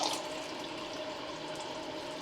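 Water poured into a hot frying pan in a home kitchen, a steady, continuous splashing hiss close by, fairly quiet and unbroken for a couple of seconds with no voices over it.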